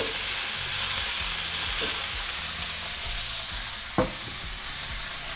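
Pork fries in a pan for Shanghai lo mein, giving a steady, loud, close sizzle throughout, with one sharp utensil knock near the end and no voices.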